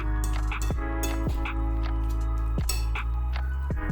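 Bread cake batter is mixed in a bowl, with repeated wet squelching strokes and light clinks of the utensil against the bowl in a steady rhythm, close and fairly loud.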